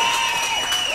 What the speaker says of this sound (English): Saints crowd doing a great job of hanging on their team here